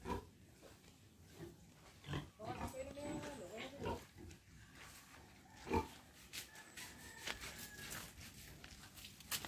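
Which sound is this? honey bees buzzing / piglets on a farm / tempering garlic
piglets on a farm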